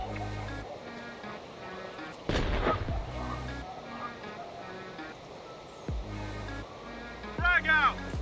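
A breaching charge detonates in the Door Kickers 2 video game, a sharp blast partway through amid sporadic gunfire-like pops and game effects, with a voice speaking briefly.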